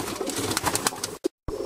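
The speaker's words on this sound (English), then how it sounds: "Just thought I'd show you this beautiful khaki bar hen bird" A young khaki bar homing pigeon hen coos softly in a low, throaty murmur, heard close up over a brief moment before cutting off.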